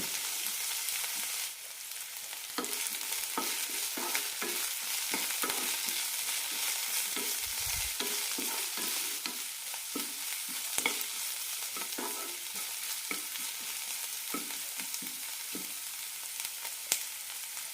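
Fresh coriander leaves sautéing in a hot pan, a steady bright sizzle with repeated scraping knocks of a spoon stirring through them, close and continuous without speech.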